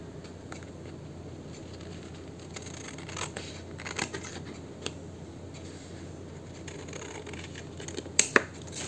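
Scissors snipping out a paper raindrop craft, with soft, irregular crisp cuts and paper rustles close by, and two sharper clicks near the end, no talking.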